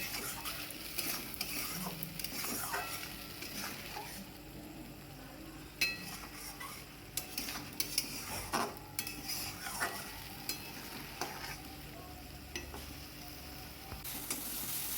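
Spices frying in a pan in a home kitchen, a soft sizzle under repeated stirring scrapes and clinks of a utensil against metal, heard close and without any talking.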